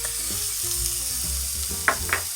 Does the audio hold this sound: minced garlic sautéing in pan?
yes